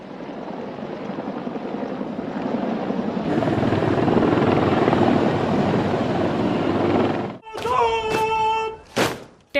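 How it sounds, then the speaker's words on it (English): Loud, steady rotor roar of military helicopters passing overhead, building and then cutting off into brief thuds and tonal bursts at the end. "fighter jets and helicopters soared overhead."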